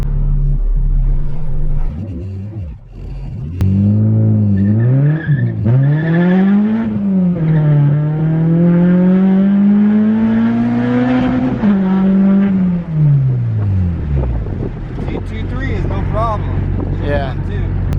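A car with an LS engine accelerates hard through the gears, its engine note climbing in long sweeping pulls with quick short shifts near 5,000 rpm, loud and close from inside the cabin, with a voice talking over it.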